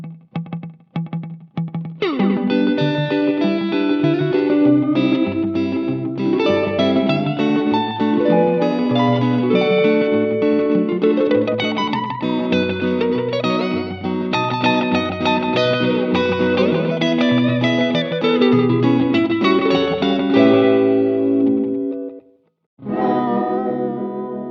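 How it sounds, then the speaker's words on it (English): Electric guitar through a Strymon NightSky pedal set to a multi-tap slapback echo, loud sustained chords and notes with snappy repeats and wash, ending in a brief gap before playing resumes. "It's like a multi-tap slapback, and it also has a very snappy classic sound."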